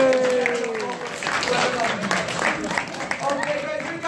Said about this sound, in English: We ever give him a round of applause